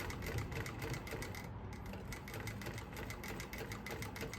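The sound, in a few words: sewing machine top stitching selvedge denim jeans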